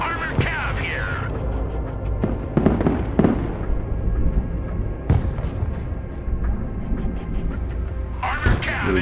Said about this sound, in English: Get some artillery fire on him.